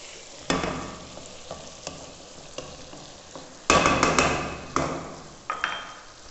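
Mixed vegetables are stirred in a hot pan with a spoon, giving irregular clanks and scrapes against the metal over a soft, continuous sizzle, with a burst of vigorous stirring partway through.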